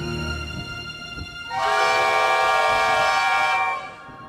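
Train engines sound a loud, steady whistle lasting about two seconds, rich with sustained tones, over a background of quiet rumble and faint clanks, with no one speaking.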